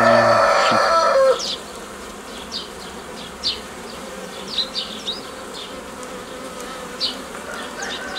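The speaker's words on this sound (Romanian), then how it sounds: "e un pic agitat albina" Honeybees buzz loudly and agitatedly up close for a moment during hive work, then a softer hum continues with scattered birdsong chirps in the background.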